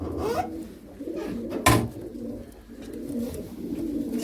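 Arab breed pigeons coo softly and repeatedly nearby, with a sharp flapping burst partway through.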